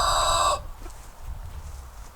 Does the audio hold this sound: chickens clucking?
yes